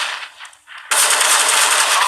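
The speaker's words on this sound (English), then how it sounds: "what a great shot from Apex." Counter-Strike gunfire in a professional esports match, a loud sudden burst of rapid automatic shots cutting in after quieter earlier shots, alone with no talk.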